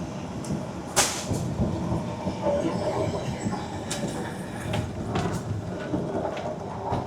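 The Darjeeling toy train runs through Mahananda jungle, a steady rumble of wheels and carriage noise heard from on board, with occasional sharp clanks and rattles.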